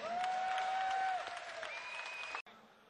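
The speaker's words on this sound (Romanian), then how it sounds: "Să-l aplaudăm pe Răzvan Benche!" Loud, sustained applause from the crowd at a KLASH kickboxing event honoring a fighter. The clapping is dense and steady, overlaid by a held whistle-like tone, then cuts off abruptly just before the end.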